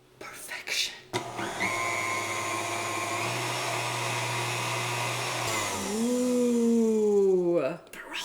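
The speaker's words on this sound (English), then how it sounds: "And now this gets whisked up into a frothy perfection." Instant coffee, sugar and boiled water whisked until frothy, likely with an electric whisk, giving a steady motorized whir for several seconds that rises in pitch near the end before stopping.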